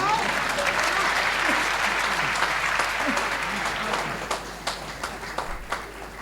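A crowd at a Hindi comedy poetry recital (hasya kavi sammelan) breaks into loud, sustained clapping that thins into scattered claps after about four seconds.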